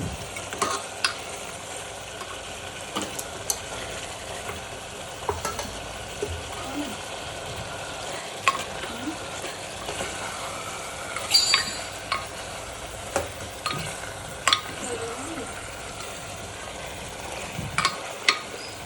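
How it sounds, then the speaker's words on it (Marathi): Masala paste cooks in a pan with a soft, continuous sizzle, broken by occasional stirring scrapes and clinks that grow sharper toward the end, close by. "मस्त मसाला शिजून घेऊ वाटण"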